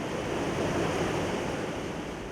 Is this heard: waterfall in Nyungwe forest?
yes